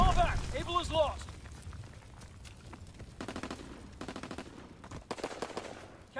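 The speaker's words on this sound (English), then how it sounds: "Enemy mortar fire incoming." Enemy mortar and gunfire in a Call of Duty WWII match cracks in rapid bursts over several seconds, with a radio-style voice announcement at the start and scattered loud impacts throughout.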